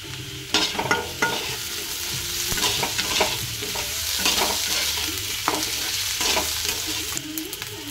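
Ginger and garlic paste frying in a hot pan with a steady close sizzle, punctuated by repeated scraping stirs of a utensil against the metal throughout.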